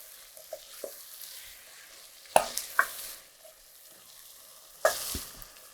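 Fire-roasted canned tomatoes with their juice are stirred into a pot of beef chili, giving a few sparse spoon clinks and scrapes over a quiet, soft background.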